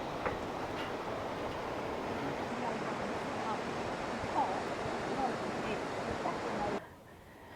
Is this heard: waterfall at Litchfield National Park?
yes